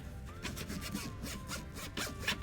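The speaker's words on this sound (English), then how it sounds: "And then your last thing to do is just to test your zipper." A clothing zipper is pulled open and shut again and again, giving close, quick, rasping runs in a steady back-and-forth rhythm with no talk.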